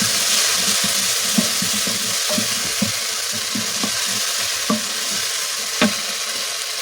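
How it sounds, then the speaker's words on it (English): A spoon stirs a dried peas curry with curry powder in a pot, scraping and clinking against the pot at irregular moments over a continuous sizzling fry. "So give it a nice stir."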